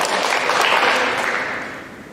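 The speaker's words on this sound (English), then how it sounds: "if we can give him a round of applause there" Applause for student Levi Hall at a school assembly: a broad, steady wash of clapping that holds for about two seconds and then fades slightly, with no voices over it.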